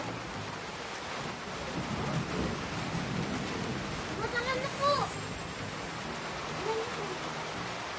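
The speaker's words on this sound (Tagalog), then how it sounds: "Naman lakas-lakas ng ulan eh." Heavy rain pours down in a continuous roar, with a low rumble of thunder in the background and people talking faintly beneath the downpour.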